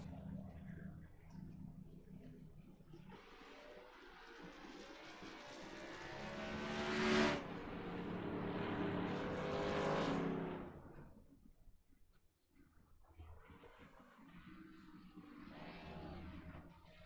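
Race cars at a Texas racing league event roar past on the track, the engine noise swelling to a loud peak, then fading and returning more faintly.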